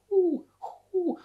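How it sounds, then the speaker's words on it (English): Owl-like hoots on a track from a metal album: three short, low, rounded calls in quick succession, fairly clear and alone with no voices over them. "Even got sounds of owls as well."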